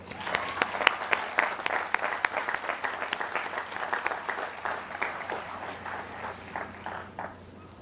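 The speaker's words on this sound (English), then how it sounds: "Let's take a moment to applaud all of our families, friends, faculty, and staff that have helped us get to this point." Crowd applause at a 2007 College of Agriculture commencement ceremony, a sustained patter of many hands clapping at moderate distance that gradually thins and fades toward the end.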